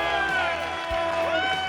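Enthusiastic crowd cheering and whooping at a Carlisle classic car auction for Burt Reynolds, a loud, steady wall of voices with shouts rising through the whole stretch.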